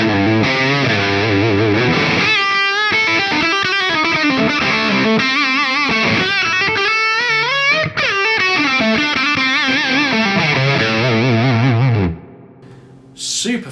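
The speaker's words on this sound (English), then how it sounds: "Let's hear that just with an overdrive in the front. So this is the boost side of the D&M drive." Electric guitar played through the boost side of a D&M Drive overdrive pedal into a Hamstead Artist 60+RT amp gives a loud, saturated, singing lead line with sustained notes and bends, ringing out alone before cutting off near the end.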